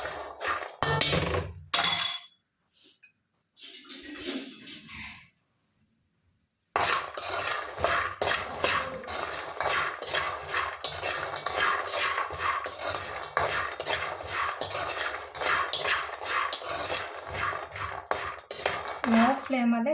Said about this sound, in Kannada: ಈ ಶೇಂಗಾ ಬೀಜನ ಲೋ ಫ್ಲೇಮಲ್ಲಿ ಫ್ರೈ ಮಾಡೋದಿದ್ದಾರೆ.